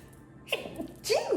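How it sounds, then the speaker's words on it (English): A single person's sneeze bursts out close and loud after a quick sharp inhale, a short breathy gasp followed by the explosive release, with no talk over it. "excuse me for like sneezing"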